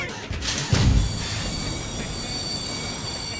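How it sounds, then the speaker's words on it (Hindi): A passenger train starts moving, with wheels squealing against the rails and a low rumble of railway cars under a steady hum, a heavier thud early on, close and continuous. "ओए ट्रेन चल पड़ी।"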